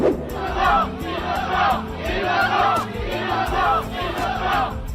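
A unanimous crowd in a courthouse shouts in rhythmic bursts at a murder verdict, several loud swelling chants repeating about once a second, close and dense with no single voice standing out.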